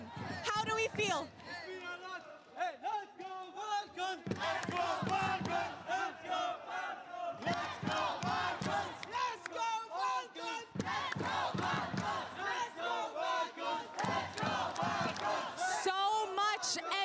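A packed esports watch party at the Lenovo Legion Gauntlet, with fans cheering loudly for Team Falcons during the MSC knockouts. The roar is continuous and dense, with shouted voices and chants rising and falling throughout.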